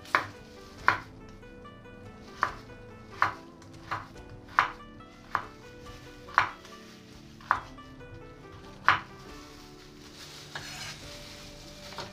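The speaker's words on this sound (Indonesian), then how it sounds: "Kemudian potong wortel sesuai selera, jangan lupa dicuci bersih baru dipotong ya teman-teman." A knife chops carrots on a cutting board in about ten sharp, evenly spaced strokes, close and distinct, with a faint low kitchen hum running underneath.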